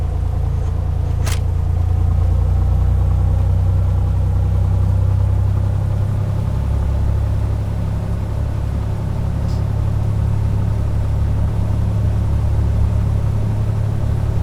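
A Cessna taxis in the FSX flight simulator, its engine a steady, loud, low droning rumble that holds even and continuous throughout, with a faint click near the start.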